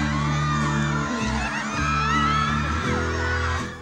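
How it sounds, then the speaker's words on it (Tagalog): A crowd of fans at a stage appearance by actress Bianca Umali screams and cheers loudly and continuously, with high-pitched shrieks over a thick wall of noise and a low droning hum beneath. "Mas midagundong pa ang hiyawan."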